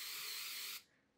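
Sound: hairspray sprayed onto a spoolie brush

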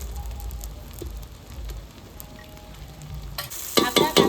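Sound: frying chopped green chilies and tomatoes in a pan

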